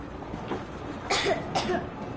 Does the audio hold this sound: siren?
no